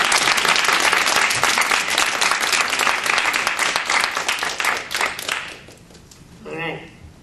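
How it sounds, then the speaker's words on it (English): Sustained audience applause for a woman named Claire fills the room loudly with dense clapping, then thins out and fades, leaving a brief voice near the end. "let's give her another round of applause for Claire"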